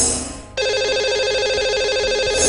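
Telephone ringing on a call-in show as a caller is dialed in, a short lull followed by a steady, loud electronic ring tone that holds continuously to the end with no talk.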